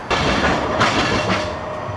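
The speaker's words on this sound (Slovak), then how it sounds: "Vlaky sa nám tady proháňajú." A train runs along a railway in Bratislava, a loud, close, steady rumble with clattering wheels over two seconds, with no talk.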